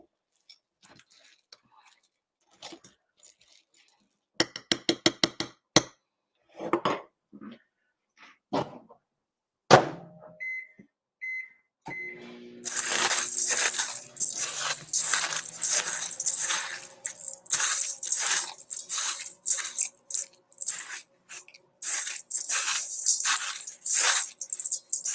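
A metal spoon scrapes and clinks against a bowl while stirring melted chocolate and noodles for haystack cookies, starting with scattered taps and then settling into repeated rhythmic scraping strokes for the second half.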